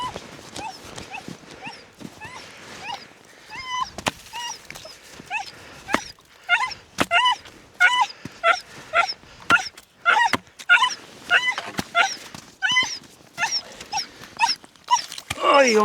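A dog that has fallen into a lake whimpers and yelps in a rapid, repeated series of high, near cries, with splashing and knocking noises scattered between them.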